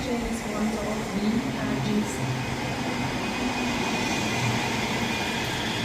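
A Scotrail class 385 electric train at Edinburgh Haymarket station gives a steady, continuous rail rumble and hum, with station noise and a voice speaking over it throughout.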